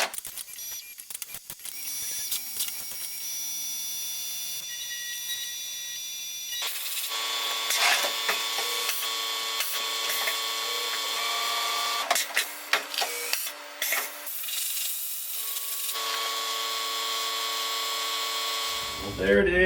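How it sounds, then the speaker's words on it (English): A CNC machine tool whirs as it drills and counterbores holes for a knife lock, with high-pitched spindle whine, shifting tones as it cuts, steady and close with intermittent grinding bursts. "Then we'll drill a few holes around it and counterbore for the screws to go in there."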